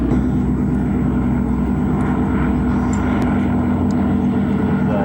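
A Harvard propeller trainer plane, also called an SNJ, drones steadily and loudly at an airport air show, its engine roar constant and close throughout with no talking.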